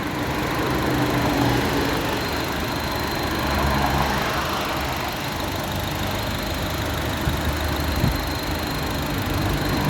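A Honda CR-V with a 2.4-litre engine and an LPG injection system idles steadily, a continuous mid-pitched engine drone with no talk over it.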